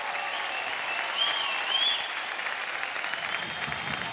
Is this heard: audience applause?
yes